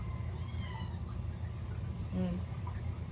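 An angry cat lets out two short, whiny meows a couple of seconds apart over a steady low background hum.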